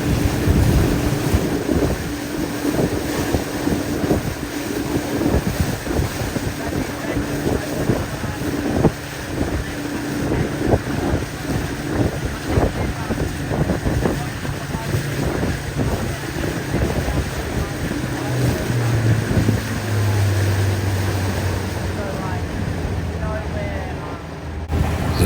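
A boat motoring through very shallow reefs toward Post Office Island in the Abrolhos, its engine rumbling continuously for a long stretch with heavy wind buffeting the microphone and a voice talking over it.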